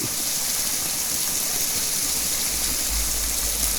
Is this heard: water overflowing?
yes